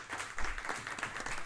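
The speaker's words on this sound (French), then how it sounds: "Félicitations Vino, vous pouvez l'applaudir" Applause from the audience at the final table of a charity poker tournament, a short spell of distant, diffuse clapping at fairly low level with a slight swell partway through.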